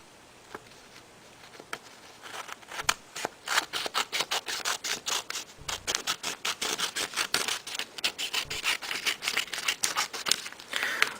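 Scissors snip excess paper from an origami sheet, a close run of quick crisp cuts that starts sparse and grows into steady rapid snipping, with faint paper rustle.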